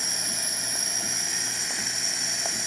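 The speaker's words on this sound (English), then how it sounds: "nice steady steam coming out of the machine." Steady steam hisses from a Gaggia Brera espresso machine, a continuous, even, high airy rush at low volume that goes on without a break.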